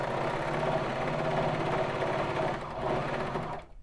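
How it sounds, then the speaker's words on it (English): Baby Lock Vibrant sewing machine stitching the shoulder seams of a sweatshirt: a fast, steady mechanical whir and needle clatter, close and continuous, briefly slowing before stopping abruptly at the end. "I'm then just going to take my shoulder seams and line them up, and we're stitching"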